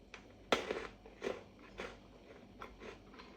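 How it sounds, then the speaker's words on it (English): Australian raspberry-flavoured Maltesers are crunched and chewed close up, with a sharp first bite followed by several softer, uneven crunches in a quiet room. "You get that crunch straight away, a little bit chocolate, and then the raspberry flavour kind of towards the end."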